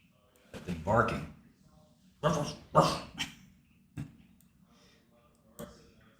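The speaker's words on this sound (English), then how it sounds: "That thing barking." A stray dog barks in several sharp, fairly close bursts spread unevenly over a few seconds, with quieter gaps between them.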